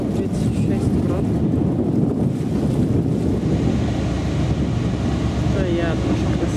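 Strong wind roars across the microphone aboard a large car ferry in Norway, with a steady low rumble of engine and water beneath, continuous and loud throughout.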